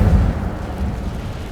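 A fire spell cast in the Hogwarts Legacy video game, a deep rumbling burst that swells at once and then rolls on as a steady low roar, with no voice over it.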